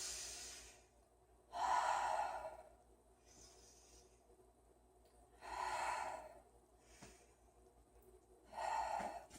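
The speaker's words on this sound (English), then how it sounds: "3 nice deep breaths." Deep breaths are taken during a beginner yoga practice: three slow, audible inhale-and-exhale cycles, each a soft airy rush separated by quiet pauses, close and gentle.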